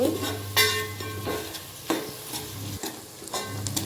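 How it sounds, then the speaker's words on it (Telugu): Chopped onions fry in hot oil with a low steady sizzle, punctuated by a few soft stirring scrapes and clinks, quiet and close. "ఆయిల్ వేడైంది ఇప్పుడు చిన్నగా కట్ చేసుకున్న ఆనియన్ ఆనియన్ వేసాక ఒక ఐదు నిమిషాల పాటు వేగనీయాలి ఫ్రై కానీయాలి"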